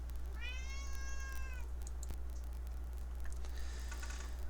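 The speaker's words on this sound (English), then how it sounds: "My cat is meowing at me." A pet cat gives one clear, drawn-out meow, close and moderately loud in a quiet indoor room, followed by a couple of softer, shorter mews and faint light clicks, with no speech.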